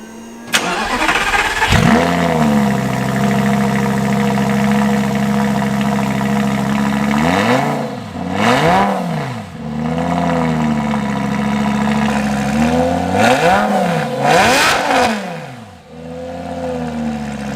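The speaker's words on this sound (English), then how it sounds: "the Superleggera exhaust has its own distinct bespoke note to it" A 2008 Lamborghini Gallardo Superleggera revving up close, its exhaust note rising and falling through several sharp throttle blips over a steady idle, loud and alone without any talk.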